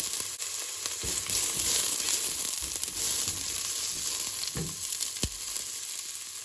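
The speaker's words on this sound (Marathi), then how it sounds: "तेल गरम जालें म्हणटकीर मातशें पियाव घालया आनी मातशें भाजून हाडया हो पियाव" Onions frying in hot oil for a cabbage dish, a dense, bright sizzle that holds steady throughout, with a couple of faint spatula knocks near the end, close and unaccompanied.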